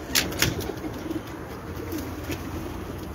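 A pigeon cooing on a rooftop loft, soft low coos repeating near and alone, with a few brief flutters of wings early on.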